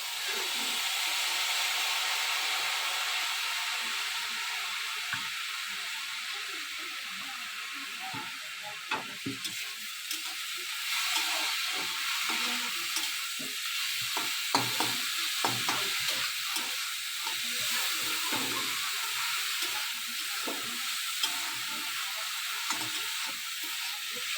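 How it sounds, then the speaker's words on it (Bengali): Jaggery filling for patishapta pitha stirred and fried in a pan, a steady close sizzling hiss running throughout with soft, irregular scraping strokes and no talk. "এইভাবে নেড়ে চেড়ে লাল লাল করে পুরটা আমি বানিয়ে নেব"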